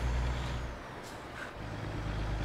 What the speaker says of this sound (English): Man, lots of gear noise right now.